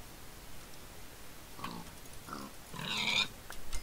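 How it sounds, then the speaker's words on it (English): Pigs in the video game Diacasa give a few short grunts and oinks, three separate bursts in quick succession over faint background hiss. "We're gonna kill these pigs right now."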